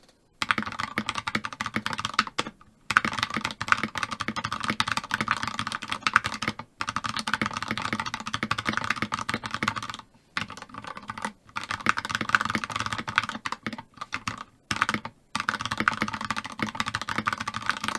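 Steady, rapid typing on a keyboard housed in a 3D printed Nouvelle 60 case, light clacky keystrokes in continuous runs broken by a few short pauses, close and alone with no voices.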